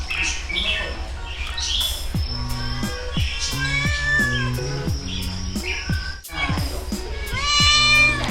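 A one-year-old cat meows over and over in drawn-out, wavering cries, close and loud, at a small cat farm, with faint background chirps and other noises throughout.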